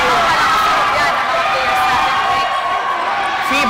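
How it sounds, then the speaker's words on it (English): Fans of UNC and Ateneo at a women's volleyball match make a steady crowd roar that fills the gym, with a commentator's voice talking over the cheering. "Naririnig natin dito ang cheer ng fans ng UNC at ng Ateneo."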